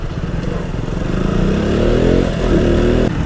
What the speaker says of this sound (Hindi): फुल सिस्टम एग्जॉस्ट की आवाज यार तबाही है।